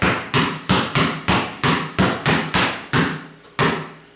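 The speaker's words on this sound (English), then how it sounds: "You can go back and forth with just one hand as well. Just like the V dribble, but just one hand." A basketball is dribbled with one hand in a youth dribbling session, about eleven sharp, evenly spaced bounces in a steady rhythm, loud and close, with no talking.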